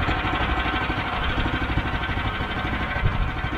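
A small engine driving a sawmill idles and warms up after being started, a steady, close, rumbling drone that holds an even level throughout with no talk over it.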